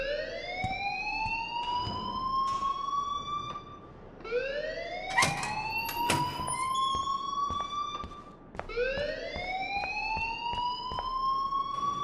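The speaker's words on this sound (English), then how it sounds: "please turn off that alarm since that's your" Alarm in the video game Life Is Strange, a loud rising electronic whoop repeating three times in a steady cycle, each sweep climbing then cutting off, with no voices over it.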